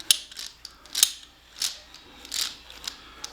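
An old finger-type oil filter removal tool is handled close by, giving a few separate metallic clicks and scraping clacks at uneven intervals, with no talk.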